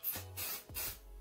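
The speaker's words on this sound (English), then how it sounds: "One thing you also will need is some temporary adhesive spray," A can of temporary adhesive spray hisses in two short sprays, close and fairly loud, with a brief pause between bursts.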